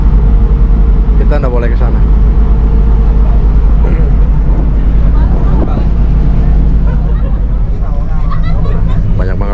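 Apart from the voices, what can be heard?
ship engine room machinery on a Pelni ferry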